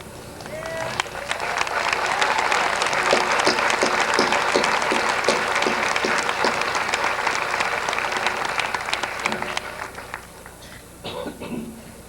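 Audience applause at a 2001 Eastern Kentucky University summer commencement ceremony, a sustained roomful of clapping that builds in, holds for several seconds, then fades with a few scattered claps and light crowd noise at the end.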